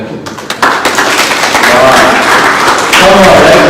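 Audience applause at a consultants conference after a pair of twin speakers, a dense, steady wash of many hands clapping that swells after the first half second and holds loud throughout, with some voices mixed in.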